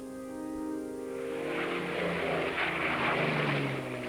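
A World War II de Havilland Mosquito aircraft's engine drones steadily, then swells into a loud, rushing roar that holds to the end, with no voices.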